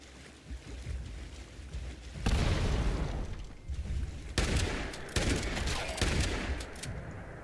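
A grenade explosion bursts amid gunfire in the game Fallout 76, with loud broadband blasts and rattling volleys of shots arriving in several heavy bursts over a low rumbling background.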